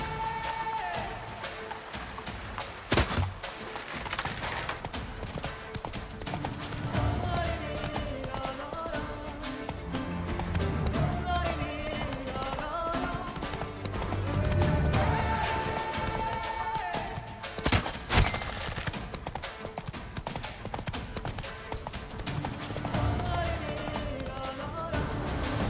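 Roach, Geralt's horse in The Witcher 3: Blood and Wine, gallops with continuous rhythmic hoofbeats beneath game music and ambient noise, with occasional louder thumps and impacts scattered through the stretch.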